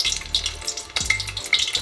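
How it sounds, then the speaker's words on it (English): Chicken fries in hot oil for a Christmas dinner, a dense close sizzle and crackle with bursts of spitting, stirred now and then, and no talking. "then we're gonna start frying"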